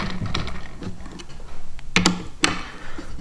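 A T-handle bolt spun and tightened into a rigid plastic kayak firewall, with steady close ratcheting, threaded rattling and a few sharp clicks near the end.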